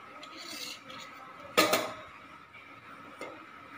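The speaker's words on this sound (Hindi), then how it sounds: "अब हम इस पर कढ़ाई चढ़ा देंगे और इसमें थोड़ा सा घी डालेंगे।" A metal kadhai is set down on a gas stove with one sharp clanking knock, then quieter scrapes and a faint second clink as ghee goes in, close against a low background hiss.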